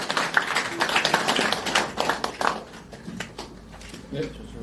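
An audience applauds at a National Assembly election campaign launch ceremony, a moderate burst of clapping that thins into scattered claps and fades within a few seconds.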